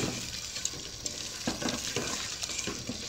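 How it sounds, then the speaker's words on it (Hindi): Chicken macaroni with salt, spices and tomato ketchup being stirred in a pan, a steady scraping and soft sizzle with light clinks of the spoon against the metal, close and continuous with no talking. "और स्पाइस और टमाटो केचप, और इसे अच्छे से मिक्सअप कर लूँगी"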